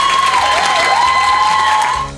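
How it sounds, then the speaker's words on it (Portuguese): Applause from an audience at a competition scoring moment, a dense, loud burst of clapping, with a whistle-like tone, carried over a steady murmur before tapering off at the end. "A cada pontuação, o alívio era expressado pelas palmas."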